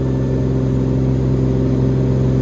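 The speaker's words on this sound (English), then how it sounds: "We're going to be climbing full rich, full throttle, and max RPM all the way up." A Cessna P210R piston aircraft engine runs at full throttle, full rich mixture and maximum RPM during a climb, giving a loud, steady, unbroken drone close up.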